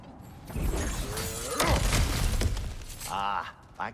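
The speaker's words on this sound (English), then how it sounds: "Ah, back to smashing through things for fun and profit." In God of War Ragnarök, cracked ground is smashed through and shatters with a loud crunching burst of breaking debris and rumbling impacts, then scraping settles as a short vocal grunt is heard near the end.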